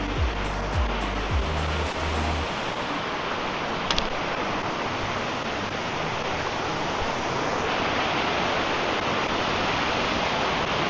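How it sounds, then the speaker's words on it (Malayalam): A small forest waterfall roars in a constant broad rush of falling water, loud and close, with a few low thumps and knocks at the start and no talk. "ഞാൻ പറഞ്ഞ പോലെ ചെറിയൊരു വാട്ടർഫാൾസ് ആണ്."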